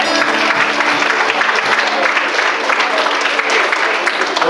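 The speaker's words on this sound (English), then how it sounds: "give yourself a round of applause for that" A concert audience breaks into sustained applause, dense steady clapping that fills the room at a constant loud level for several seconds, with a bit of crowd noise mixed in.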